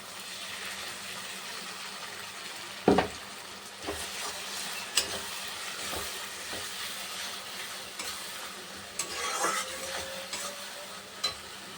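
A ginger-garlic-chilli-tomato spice paste fries in a pan, giving a steady soft sizzle broken by a few sharp scraping stirs, close and without any talk.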